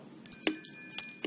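A notification bell sound effect rings out bright, shimmering chime tones in a few quick successive strikes that sustain with a clear metallic ring, loud and close, with no talking.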